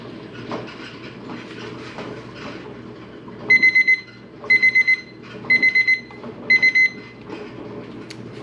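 A bright electronic kitchen timer alarm rings in four short bursts of rapid beeps, separated by brief pauses, over a low background hum.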